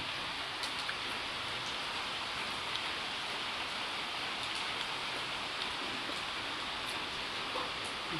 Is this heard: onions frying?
no